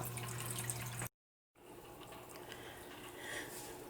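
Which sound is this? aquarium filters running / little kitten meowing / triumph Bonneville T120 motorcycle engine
aquarium filters running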